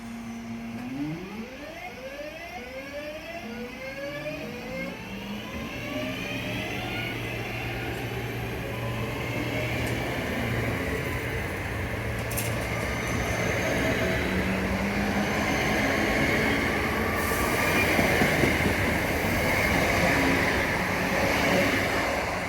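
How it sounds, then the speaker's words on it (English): A Class 323 electric train pulls out of Erdington station, its traction motors whining upward in rising tones as it gathers speed, then settling into a loud, steady rumble that passes close by. "I will leave you with a departure of a Class 323 at Erdington."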